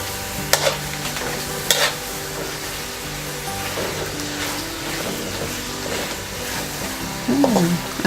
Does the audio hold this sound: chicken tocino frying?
yes